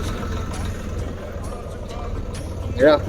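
A tractor engine drones low and steady from close by while someone rides on it in rain on farm fields, with a voice briefly heard over the rumble near the end.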